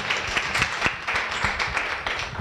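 An audience claps together at a women-in-entrepreneurship panel session, a steady, dense patter of many hands with sharper individual claps standing out, sustained for the whole moment.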